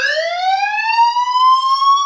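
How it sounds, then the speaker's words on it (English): A loud, steady electronic siren tone from an Android phone's anti-theft alarm, rising slightly in pitch as it holds, alone without any talking. "send an alarm"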